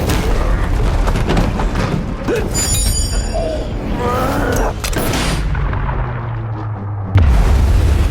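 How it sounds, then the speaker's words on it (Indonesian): A hand grenade explosion in an action film, loud booming blasts with debris and screen effects, capped by a sudden heavy low boom near the end. "Ryo pun berhasil mengalahkan Scorpio dengan menaruh granat tangan di mulutnya dan meledakkannya hingga dia mati"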